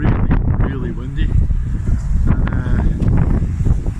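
Strong wind on the West Highland Way buffets the microphone in loud, gusty rumbles, with a person speaking underneath and traffic noise nearby blending into the constant blustery roar.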